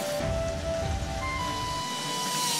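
Steady rain falls at an outdoor fishing spot, a dense, continuous hiss of drops close by with no talk over it.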